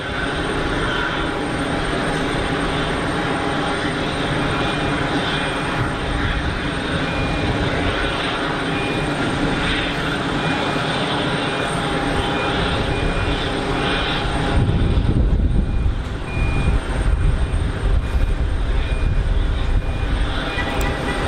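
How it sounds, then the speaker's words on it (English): A Pilatus single-pilot, Swiss-built aircraft runs its engine at Geneva Airport, a loud continuous drone held for about twenty seconds and swelling louder near the end. "What a great little aircraft. Certified for single pilot operation. Built here in Switzerland."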